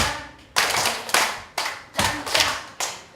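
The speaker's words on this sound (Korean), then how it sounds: "박수 치면서 시작!" A group claps together in a steady rhythmic pattern during a 7080 singing class, with loud bursts of unison hand claps separated by short pauses, repeating about six times.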